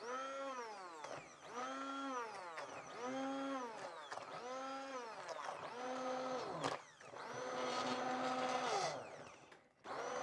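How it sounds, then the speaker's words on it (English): An emulsion (immersion) blender purees red pepper soup in a series of rising and falling motor whines, about five short pulses followed by a longer, rougher steady run close by. "it doesn't go quite as smooth using the emulsion blender"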